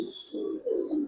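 Pigeons at a fancy pigeon farm that keeps Giribaz and racer birds give a short burst of low, throaty cooing close by, with no talk.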